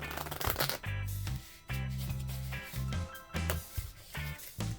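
Playing cards being handled and shuffled by a magician at a table, bursts of rapid riffling flutter separated by short pauses, close and clear with no talking.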